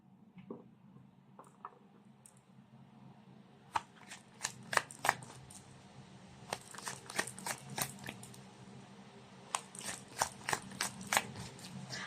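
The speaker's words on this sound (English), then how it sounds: "Let's pull up 3 cards from this deck now." A deck of tarot-style pick-a-card cards being shuffled and drawn, with a run of crisp riffling snaps and flicks building into rapid bursts, close and fairly quiet over a low steady room hum.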